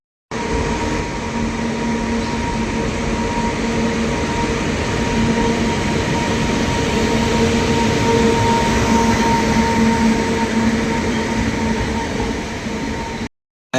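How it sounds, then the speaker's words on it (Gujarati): A train pulling into Botad railway station, a steady loud rumble with sustained tonal hums and faint wheel squeal running unbroken for about thirteen seconds before cutting off. "જો ગાડી આવે છે તમને દેખાડું"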